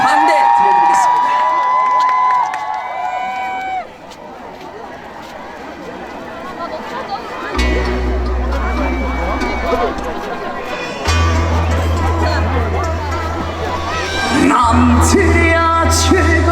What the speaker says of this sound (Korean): 박수 많이 주시고요. 함성 주시고요.